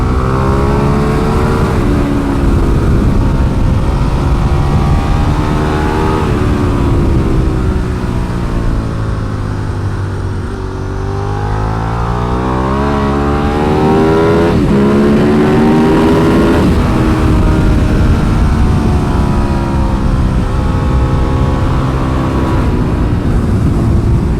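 A Ducati 1098 motorcycle screams around a race track, its loud engine note close and continuous, dropping in pitch into a corner, then climbing again as it accelerates away.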